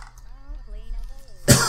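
A Sim in The Sims 4 murmurs in a tonal in-game voice, then lets out a single sharp, harsh cough right near the end.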